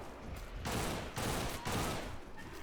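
Gunfire in the video game Primal Carnage: Extinction, three dense bursts of rapid shots in quick succession, loud and close, with short gaps between them.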